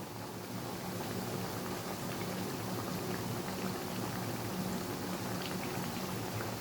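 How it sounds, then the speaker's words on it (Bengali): Lentil fritters sizzling as they fry in white soybean oil, a quiet, steady crackle and bubble of hot oil that continues evenly without pause, heard alone. "এই তো আমার বড়াগুলো ভাজা হচ্ছে।"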